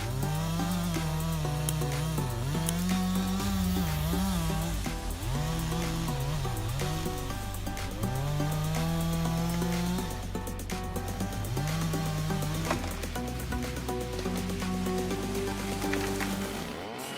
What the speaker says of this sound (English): the Stihl MS660 is designed for the most demanding jobs, easily cutting through the large trees with its 25-inch bar.